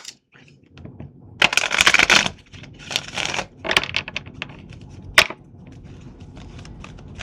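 A deck of tarot cards is shuffled in a few crisp bursts of rapid riffling clicks, close by, followed by quieter handling and a sharp single snap.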